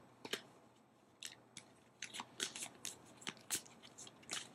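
Tarot cards being shuffled, a faint run of soft crisp riffles and snaps that grows denser after the first second, close but quiet with no talking.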